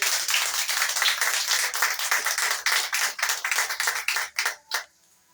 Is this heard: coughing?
no